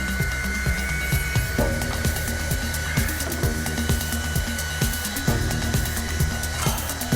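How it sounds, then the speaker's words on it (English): A hot air blower hums steadily while a spatula works loose the adhesive between an Opel's rear side member and its cover plate during panel repair. Irregular scraping taps are heard close up over the blower's drone. "using a spatula and a hot air blower, the adhesive between the rear side member and the cover plate must be detached."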